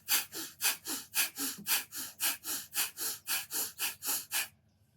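Rhythmic pranayama breathing with both the inhale and the exhale pushed actively, about fourteen quick, even breath bursts alone and close up before stopping abruptly.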